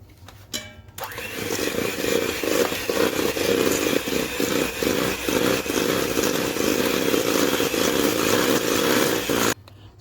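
An electric mixer beats an egg into chocolate chip cookie dough, a steady loud motor whir with rhythmic thumps of the beaters, starting after a brief pause and running nearly ten seconds before cutting off.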